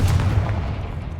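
A Confringo fire blast spell from the Hogwarts Legacy video game erupts as a loud, close, booming burst with a heavy low rumble that slowly fades over about a second, with no talking.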